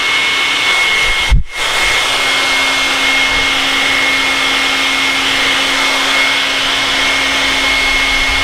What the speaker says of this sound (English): So it will take a little bit of time to dry it with a hairdryer.